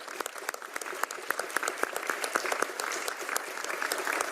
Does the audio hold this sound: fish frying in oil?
no